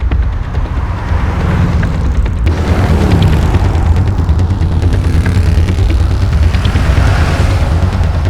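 A motorcycle pulling away in a Telugu film scene gives a loud, continuous engine roar with a heavy low rumble that holds steady throughout.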